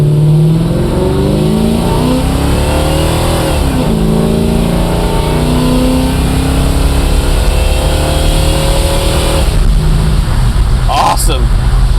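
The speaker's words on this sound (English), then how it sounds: "We're running with the windows down so you can hear the exhaust" Loud 289 V8 exhaust of a 1965 Chevrolet Malibu droning steadily as it accelerates through the gears, rising pitch sweeps with heavy wind roar, heard from inside with windows down.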